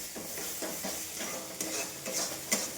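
Spice paste sizzles and fries in oil in a wok while a spoon stirs it in repeated scraping strokes, a steady crackle with soft rhythmic scrapes and a couple of sharper knocks, fairly quiet and close.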